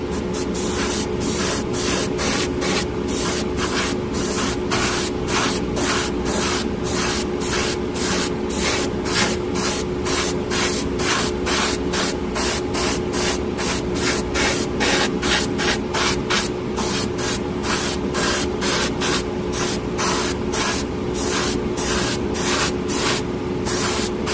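A Harder & Steenbeck Evolution Silverline airbrush sprays a light mist coat of primer in a steady, close, continuous hiss broken by rapid regular on-off pulses, with no talking.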